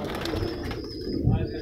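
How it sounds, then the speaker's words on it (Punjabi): Blue Kamagar pigeons coo close by over a busy, noisy background at a pigeon sale, someone talking over them throughout. "ਤੁਹਾਨੂੰ ਦਿਖਾਉਂਦੇ ਹਾਂ ਜੀ ਇਕੱਲਾ ਇਕੱਲਾ ਕਬੂਤਰ, ਨੀਲੇ ਕਮੱਗਰ ਆ ਗਏ।"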